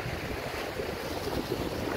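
Sea waves wash against the shore by Aberdour lighthouse. A steady hiss of surf mixes with heavy wind buffeting the microphone, continuous and fairly loud, with no voices.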